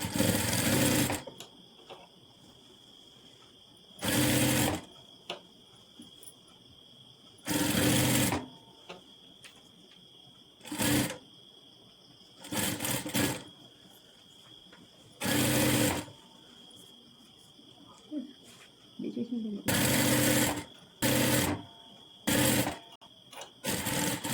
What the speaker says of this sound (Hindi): आराम आराम से दोनों पार्ट को रख के सिलाई लगाना है